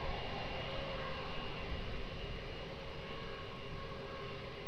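An aircraft rolls for takeoff on runway 20 at Lisbon Airport, heard as a steady, fairly faint engine roar with a broad rumble that holds even throughout, with no voices over it.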